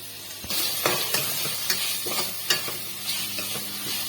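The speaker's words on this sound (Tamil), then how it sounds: "இது கொஞ்சம் நல்லா வதங்கட்டும் தக்காளி" Chopped tomatoes sauté in a hot pan for goat trotter paya, with a steady sizzle and repeated scraping strokes of a spoon stirring them, close and fairly loud, and no talking.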